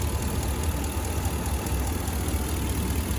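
The 5.7-liter Hemi V8 of a 2020 Ram 1500 Laramie 4x4 idles steadily with a deep, even rumble and rapid pulsing, heard close up with no other sounds over it.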